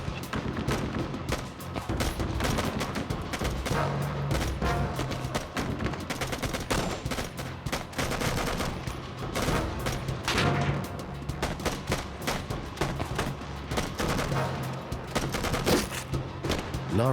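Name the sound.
enemy gunfire in a reenactment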